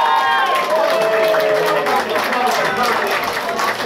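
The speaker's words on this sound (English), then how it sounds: "Round of applause, please." A crowd at a live fight night bout claps and cheers for the medal presentation, a dense burst of applause filling the room after a voice trails off at the start.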